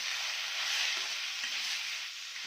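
A spicy tomato and green chili thecha with a pinch of turmeric is stirred in a hot pan, giving a steady bright sizzle with slight scraping swells, close and continuous, with no voices.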